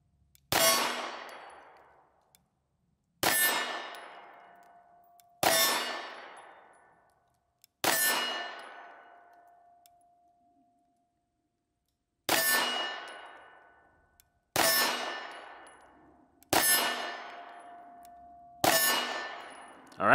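Rifle rounds strike a steel target: eight sharp metallic clangs, each ringing out for a second or two, spaced a few seconds apart with one longer pause, heard from a distance in an otherwise quiet setting.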